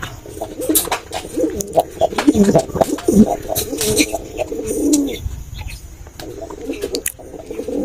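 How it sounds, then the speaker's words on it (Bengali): Pigeons, including a nervous female just brought home after a long journey in a carton, coo in deep rolling phrases close by, with wing flutters and a person talking quietly. "ওই যে ওই যে দেখেন বসে যাচ্ছে মাদি কবুতরটা"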